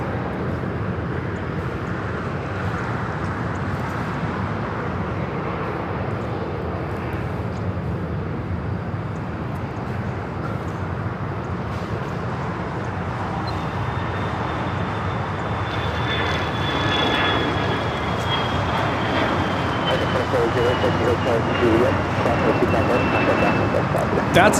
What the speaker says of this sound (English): That's a Cessna Citation 10 taking off to White Plains XO.